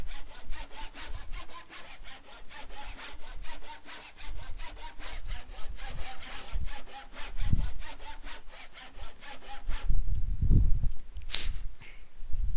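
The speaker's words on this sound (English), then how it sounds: "Furious sawing." Rapid, rhythmic sawing of wood in Minecraft with the Tinkers Construct mod, steady back-and-forth rasping strokes at a furious pace, fairly close, with a few soft thumps near the end.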